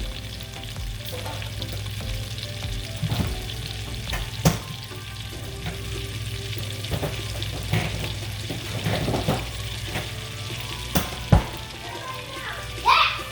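A tablespoon of minced garlic hits a hot pan and sizzles steadily up close, with occasional sharp clinks and scrapes of stirring breaking through the frying hiss.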